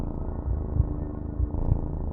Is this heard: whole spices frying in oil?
no